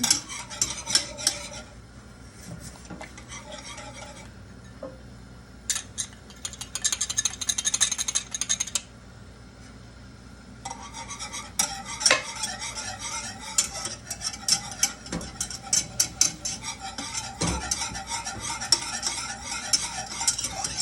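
A spoon or utensil scrapes and clinks repeatedly against a pan while a thickening egg foo yong sauce bubbles on the heat, the stirring coming in close, irregular bursts with short pauses between.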